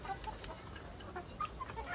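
Hens clucking in the yard of a small poor farm, soft scattered calls repeating every fraction of a second over a low outdoor background, no talking.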